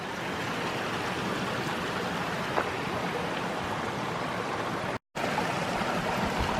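Steady, gentle rush of a mountain stream on the Mount Whitney Trail fills the scene, constant and close, with no voices over it.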